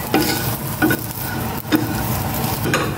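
Garlic fried rice being stirred in a hot pan: scraping spatula strokes come in three or four bursts over a steady close sizzle, with no talking.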